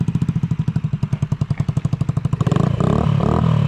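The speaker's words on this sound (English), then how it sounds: "right now it's idling fine" A Honda Metro scooter engine idles close by with an even, rapid putter, then the sound thickens into a denser, busier running note near the end.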